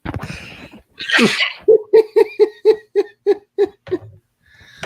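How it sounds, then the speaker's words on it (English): A single loud sneeze sounds close by, followed by a run of short, rhythmic giggling bursts. "And I am going to sneeze."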